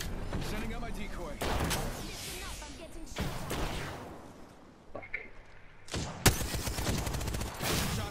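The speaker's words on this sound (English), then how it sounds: "Shots fired and they're hitting me" Gunfire in the Apex Legends video game, with rapid bursts of shots and sharp impacts coming in waves over about eight seconds, mixed with whooshing effects and someone talking over the action.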